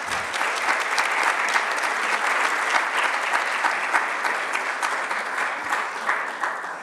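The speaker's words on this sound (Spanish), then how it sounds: "Les pido un aplauso." Sustained audience applause at an international biotechnology symposium, a steady, dense wash of many hands clapping that holds at an even level for about seven seconds without talk.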